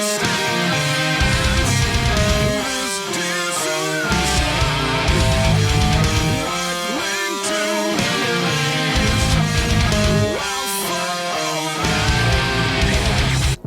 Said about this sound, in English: just play the scale along with the song so that you can hear how it fits